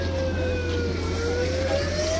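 An emergency vehicle siren wails steadily at a train derailment site, its rising tone prominent over a low engine rumble, fairly close and alone without talk.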